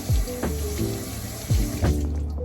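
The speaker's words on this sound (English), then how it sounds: "I do really like this mushroom, so I'm gonna go ahead and give it a good wash real quick." A mushroom rinsed under a running kitchen tap, water splashing steadily up close with a few sharper splashes as it is turned, no talking.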